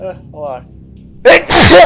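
A single sharp, loud sneeze close to the microphone right after someone speaks briefly, during a casual tabletop role-playing game session.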